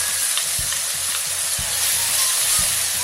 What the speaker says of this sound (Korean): 약간 달군 다음에 김치를 넣었습니다.